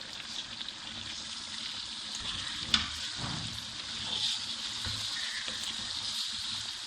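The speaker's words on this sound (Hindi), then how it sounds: "प्याज हमने डाल दिए। अब इसको अच्छी तरह फ्राई कर लेंगे।" Onions fry and sizzle steadily in a pan of oil while cooking for kadhai gosht, a continuous close hiss with a faint stir or clink partway through and no one talking.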